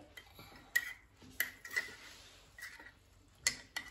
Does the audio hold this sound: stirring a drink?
yes